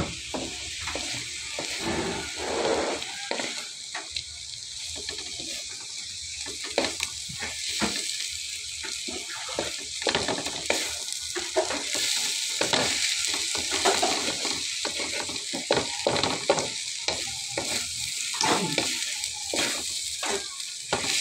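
Egg frying with bitter gourd in a pan, with steady sizzling and repeated scraping and stirring clatter throughout, close and fairly loud.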